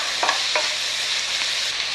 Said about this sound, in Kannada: ಒಂದೆರಡು ಸೆಕೆಂಡ್ ಹುರ್ಕೊಂಡು ನಾವು ತರಕಾರಿ ಹಾಕ್ತಾ ಇರಬೇಕು.